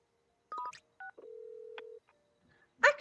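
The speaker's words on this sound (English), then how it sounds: "The dreaded phone call." A phone call comes in during the video game Heartopia: quiet electronic beeps and tones, then a single long, steady ringing tone, ending in a brief burst of sound, with no talking.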